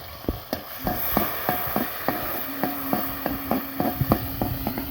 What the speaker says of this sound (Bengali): এখন তেলের মধ্যে শুটকিটা ভালো করে ভাজতে হবে